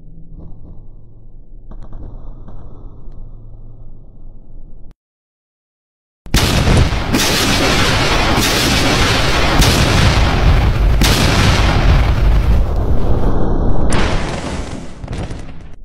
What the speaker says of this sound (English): Oh no, a grenade.